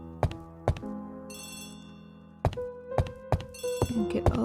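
A telephone rings in the Agatha Christie The ABC Murders video game: repeated bell rings mixed with a few dull thunks, close and clear, with no voices.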